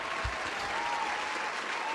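An audience claps at a mobile game awards show, a steady, fairly quiet wash of applause lasting a couple of seconds with no voices over it.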